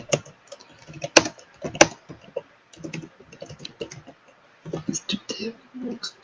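Someone types on a computer keyboard while entering build commands, a close run of uneven key clicks and sharper keystroke snaps over several seconds, with pauses between bursts.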